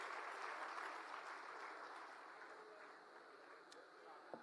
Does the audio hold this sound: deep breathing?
no